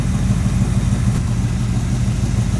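A small-block Chevy 350 V8 in a 1974 Corvette idles loudly and close during carburetor tuning, a steady deep rumble with an even throb and no talk.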